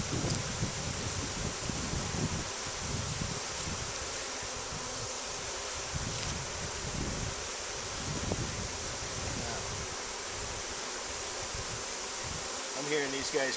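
Honey bees in an opened hive during an early-spring inspection fill the air with a loud, steady, close buzzing drone that swells and holds without a break.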